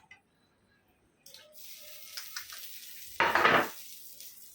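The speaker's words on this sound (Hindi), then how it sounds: "अभी इसमें इस टाइम ये अंडे डालेंगे।" Eggs dropped into a hot pan for a Kokani egg thali dish, a burst of sizzling splatter rising sharply over a low kitchen background of faint clinks and pan noise.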